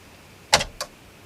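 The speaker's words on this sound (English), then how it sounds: "So that sort of click sound, I think, is the laser resetting." Sony CD player laser resetting inside the mechanism, a pair of quick close clicks, the first louder than the second, against a quiet background hum.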